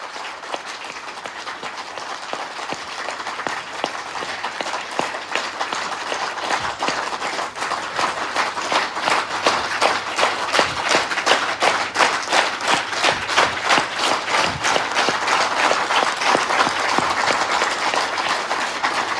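An audience at a leadership program claps for a long stretch. The dense applause holds steady, then swells louder and turns into rhythmic, synchronized claps, with no speech over it.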